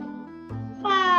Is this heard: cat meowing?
yes